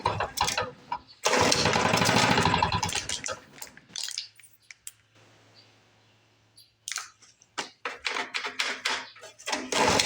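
Engine of a 1977 Ryan commercial bricktop lawn mower, running at low RPM after long storage, chugs loudly in bursts, drops to a faint low idle in the middle, then sputters back up.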